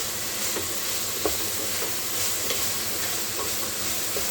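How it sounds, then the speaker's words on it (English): Black and red bean soup with thyme, rosemary and basil sizzles steadily in a single pot while being stirred, with soft scraping clicks from the spoon over a constant frying hiss. "Check out that sizzle."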